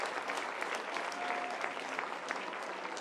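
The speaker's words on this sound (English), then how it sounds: "getting a standing ovation from this Bama crowd" A stadium crowd at an Alabama college softball game gives a standing ovation, with steady dense clapping and a few cheers running continuously and evenly at a moderate distance.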